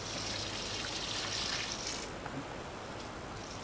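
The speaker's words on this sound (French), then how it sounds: "Et puis là, on fera arroser tout doucement." Water is poured gently onto young tomato plants, making a soft continuous trickle and splash on soil that eases off partway through.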